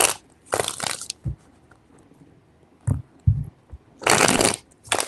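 Tarot cards being shuffled by hand in bursts of crisp riffling and slapping, several separate shuffles close up with short pauses between, no voices.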